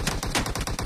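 Rapid bursts of gunfire in PUBG crackle in quick succession, a dense volley of sharp shots lasting under a second.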